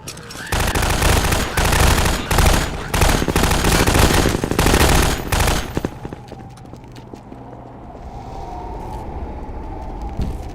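Sustained automatic gunfire from the video game Half Life 2: Episode One, loud, dense rattling volleys for about six seconds before fading into a quieter rumbling ambience.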